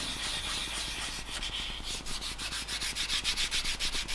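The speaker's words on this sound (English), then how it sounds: "1500 grit 3M paper here. We're just going to give them a light wet and dry, then we're going to lacquer them." Wet sanding by hand with 1500 grit 3M paper on a Sapphire RS Cosworth front-end panel before lacquering, a close, steady rasping rub that settles into quick regular back-and-forth strokes, heard alone.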